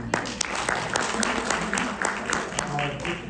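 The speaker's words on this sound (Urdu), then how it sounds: "امین بھائی کے لیے بہت ساری تالیاں ہونی چاہیے" Audience applause for Amin at an Urdu poetry gathering, a scattered patter of claps that carries steadily beneath a speaking voice for the whole stretch.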